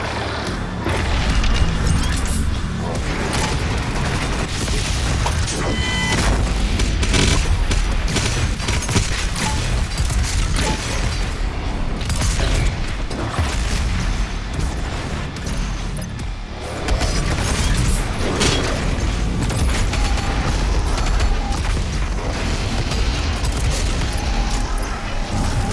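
Dense, loud combat from the video game Doom Eternal: continuous gunfire and heavy booming explosions layered with crashing impacts and mechanical clatter, a near-constant barrage with only a brief dip partway through.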